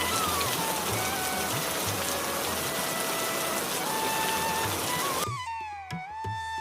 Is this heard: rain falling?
yes